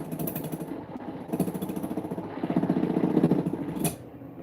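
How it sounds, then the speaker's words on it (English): A power tool shaves down PVC in loud rough grinding bursts, a short pause near one second, then a longer rising pass that ends around four seconds, followed by a brief sharp scrape. "The only thing I'm trying to do is just shave off this PVC."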